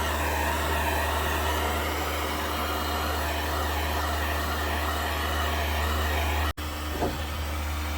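Heat gun running steadily while heating a part on a motorcycle frame, a continuous close blowing whir with a low hum, briefly cut off near the end before resuming.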